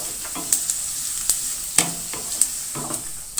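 White cumin stirred into onions frying in oil for kadhi pakora, a steady sizzle with a spoon clinking against the pan every half second or so, no voice.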